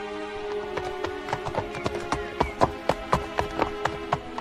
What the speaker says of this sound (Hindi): आदित्य घोड़े पर सवार होकर जंगल की ओर प्रस्थान कर गया।